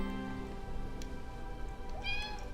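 A pet cat meows twice, one short call near the start and a clearer rising meow near the end, close by over a steady background hum.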